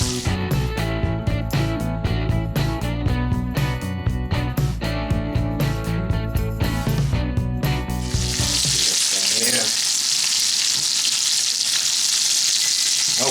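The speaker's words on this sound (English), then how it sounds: "I'm going to cook it for another 3 minutes on the other side. Oh, look at that sear right there." A steak fries in its own rendered fat in a pan, giving a loud, steady sizzle. Sharp crackles and pops sound over the first part, and the frying settles into an even hiss.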